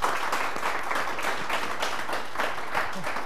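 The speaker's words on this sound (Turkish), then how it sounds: "Zorla alkış aldık be." Audience applause at a Yörük folk music performance in Çaldıran, a dense, steady burst of clapping that carries evenly through without any voices.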